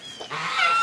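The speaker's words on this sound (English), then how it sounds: "The geese need to make their way." Geese honking on a farm, a short nasal honk rising into a sustained call, close and fairly loud, heard alone in under a second.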